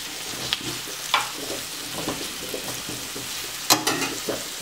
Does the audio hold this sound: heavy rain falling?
no